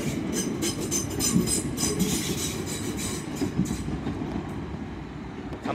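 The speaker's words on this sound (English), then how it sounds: "Driving in now is a class 377 on the service from London Victoria to Southampton Central" A class 377 electric train rumbles past nearby at St Denys station, a steady roar of wheels on rails with faint rhythmic clatter and occasional squeal.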